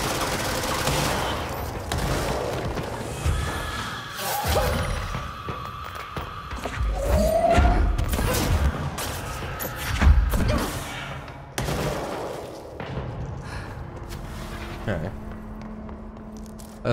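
Rapid gunfire from a weapon in the game Control, bursts of shots and thuds scattered through the stretch, with someone talking over them and pauses between volleys.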